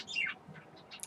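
Pet finches chirping indoors, a quick burst of bright high tweets near the start followed by a few fainter scattered chirps, close by with no talking.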